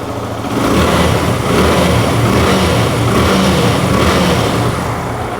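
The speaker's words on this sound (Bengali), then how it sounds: "বাইকটা কিন্তু স্টার্ট করা হয়েছে" A Yamaha Fazer V2 FI motorcycle engine runs steadily after being started, a smooth, loud, continuous idle close by, with slight swells in level and no talking.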